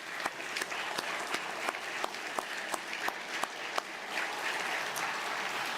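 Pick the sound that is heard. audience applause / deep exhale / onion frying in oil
audience applause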